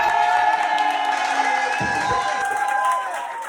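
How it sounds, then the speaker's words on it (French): A French comedy show's studio audience claps and cheers, a lively crowd with whoops and shouts mixed in, while voices and a tonal sound run over the top. "on applaudit s'il vous plaît."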